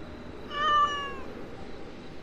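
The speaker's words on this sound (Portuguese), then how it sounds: "A melhor coisa desse mapa eu quis deixar por último, que é o gato Kotaro." The cat Kotaro from the Identity V video game gives a single clear, drawn-out meow over a soft background hum, with no talking.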